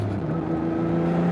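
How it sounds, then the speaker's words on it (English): A twin-turbo Dodge Stealth R/T runs nearby with a steady engine drone and a rising whirring tone as the turbo spools, loud and continuous, with no talk. "Oh, there's the turbo!"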